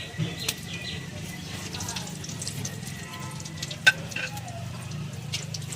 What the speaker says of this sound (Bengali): তো আমি ফোড়নগুলো তেলেতে দিয়ে দিলাম।